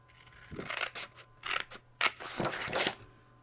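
Scissors snip through a small paper tab in a series of crisp, close cuts, several quick bursts of slicing with short pauses between them, alone with no talking.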